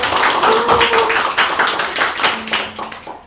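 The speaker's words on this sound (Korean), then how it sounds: "큰 박수 한번 부탁드립니다." An audience at a poetry literary talk concert giving a round of applause, a lively patter of clapping hands that is strong at first and then thins out, with a faint sustained tone underneath.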